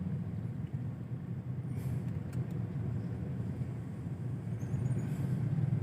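Vehicle traffic rolling along 32nd Street in Bonifacio Global City at night, a steady low road rumble and tire hiss, faint and continuous with no clear passing peak.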